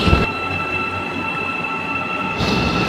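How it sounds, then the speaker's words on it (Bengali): A metro train runs through an old domed station in Kazakhstan, a loud, continuous roar of wheels and rail with a sharp high whine, easing slightly midway before swelling again. "এদের মেট্রোতে একটি মানে তীব্র শব্দ রয়েছে, যখন আসে বা যখন চলে যায় তখন একটা তীব্র আওয়াজ হয়"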